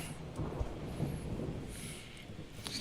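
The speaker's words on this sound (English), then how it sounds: "Well, shit, it's a storm." Stormy weather in the naval game Ultimate Admiral Dreadnoughts, a steady wash of rain with low thunder rumbling underneath and a couple of faint high whistles of wind, moderately quiet and continuous.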